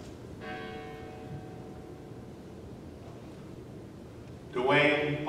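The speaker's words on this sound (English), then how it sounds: "our bell will toll once in their remembrance" A church bell tolls during an All Saints Day remembrance service. Its ringing tone starts early and hangs on, then a louder, brighter strike comes near the end over a background hum.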